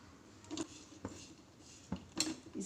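A pan set down on a gas stove and jaggery dropped in, several sharp metallic clanks and knocks spaced apart, close but fairly quiet against a soft background hiss, no talking.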